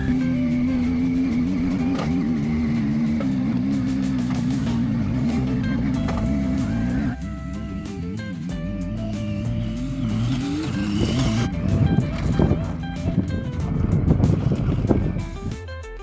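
A Zontes 703F touring enduro motorcycle rides along, its engine holding a steady drone that changes pitch midway, then revving and climbing with rising wind rush, loud and close.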